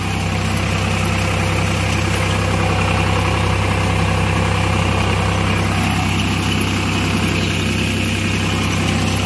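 Vasundhara super reaper running in low third gear, a loud, steady engine drone with a deep low rumble and constant vibration, unbroken for the whole stretch, no talking.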